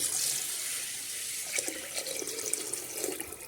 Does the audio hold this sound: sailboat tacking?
no